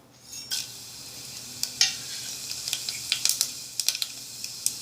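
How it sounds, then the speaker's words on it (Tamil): Cinnamon, cloves and fennel seeds crackle and sizzle in hot oil, with sharp pops and spatters breaking out over a steady frying hiss, close up. "நாம தாளிக்கிறதுக்கு பட்டை, கிராம்பு, சோம்பு இவ்வளோதான் நம்ம தாளிக்க போகிறோம்"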